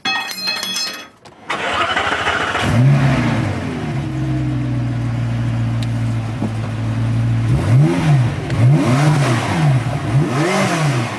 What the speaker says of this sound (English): The engine is like the breathing, spitting heart of the car